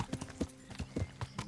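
A horse's hooves clip-clop at a steady trot in the medieval video game Kingdom Come Deliverance, with quick, evenly spaced thuds that are close and fairly soft.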